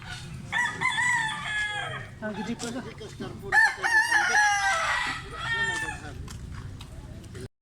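A rooster crows loudly nearby, with clucking chickens around it, while people talk over the birds.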